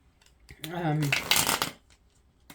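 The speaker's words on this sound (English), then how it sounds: "that was a terrible shuffle" A deck of tarot cards is shuffled by hand in a quick, clattering riffle lasting about a second, close and fairly loud, with a brief voiced sound just before and faint handling noises afterward.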